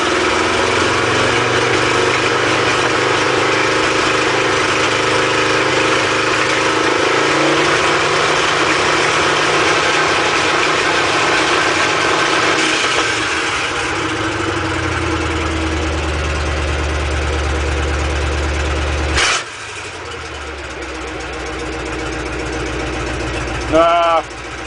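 A car engine running with no exhaust fitted and a freshly adjusted distributor drones loudly and continuously, its pitch shifting as it is revved, then drops off sharply near the end.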